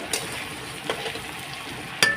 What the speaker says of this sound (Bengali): এটাও ভাজা ভাজা হবে এটা আলু ভাজা আর এটা আরও ভাজা হবে